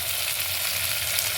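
Chopped tomatoes and golden-fried onions sizzle in a pan for an egg curry, with curry leaves added; a dense, steady frying hiss runs evenly throughout, close and with no voices.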